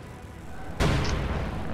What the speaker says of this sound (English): AT gun firing on the Panther.